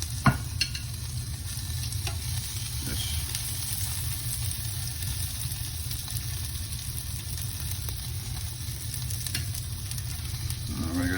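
Salmon and vegetables sear on a hot grill with a steady, dense sizzle and crackle that continues throughout, close and fairly loud, with a low background hum and no voices.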